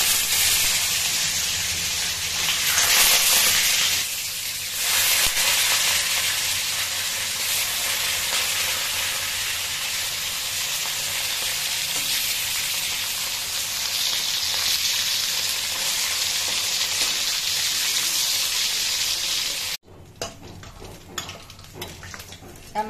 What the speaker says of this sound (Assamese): এতিয়া মাছ বহাই দিলোঁ